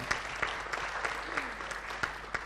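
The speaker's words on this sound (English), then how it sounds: "A round of applause." Moderate applause from an audience at a launch event, steady clapping with a few distinct individual claps standing out near the front.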